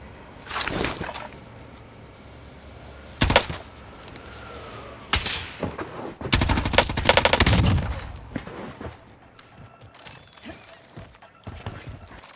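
Sharp gunshots from a Call of Duty Warzone match on Rebirth Island ring out in scattered separate bursts, loud and abrupt against a quieter background, with a denser cluster of shots midway.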